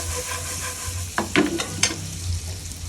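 Spicy food frying in a pan is stirred with a few quick scraping strokes over a constant low sizzle, close by and moderately loud, with no talking.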